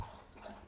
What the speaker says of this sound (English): It's my dog drinking the water again